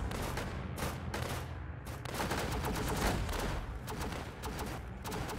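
An M1 machine gunner in a tower defense game fires dense, rapid bursts of machine-gun fire, loud and continuous with brief gaps between volleys.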